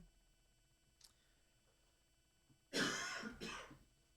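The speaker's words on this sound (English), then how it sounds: "if y'all hear me coughing occasionally off mic" A faint click, then two harsh coughs close by, one right after the other, in an otherwise quiet room.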